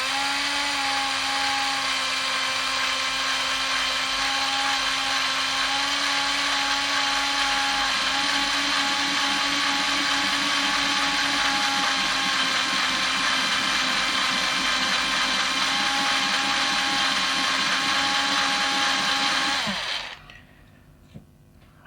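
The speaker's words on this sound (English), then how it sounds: "this fits into a regular hand drill. This is like a Black & Decker. It's really old, but it's slow." An old, slow Black & Decker hand drill spins continuously with a steady, loud whine and a slight pitch shift partway through, then cuts off abruptly near the end, leaving near silence.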